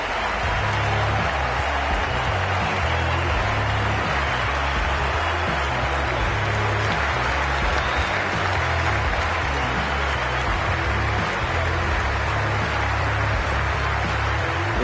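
A packed cricket stadium crowd roars and cheers continuously before the first ball of an India vs Pakistan match, a dense, loud wash of many voices with no break in the noise.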